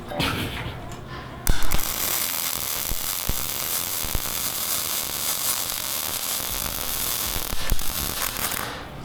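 An arc welder runs while the welder works without seeing, giving a loud, steady crackling buzz that starts abruptly and holds for several seconds with a few sharp pops.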